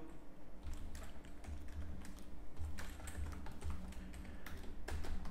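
Quiet, quick clicking of keys on a computer keyboard, in steady bursts over a low hum, close to the recorder.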